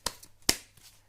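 Tarot cards shuffled and drawn from a deck by hand: two sharp riffling snaps close together, then softer card sliding, quiet and close with no talking.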